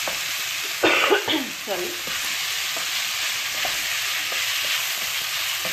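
Paneer bhurji (crumbled cottage cheese) stirred in a hot pan, giving a steady broadband sizzle with scraping strokes; a person speaks briefly and coughs near the start.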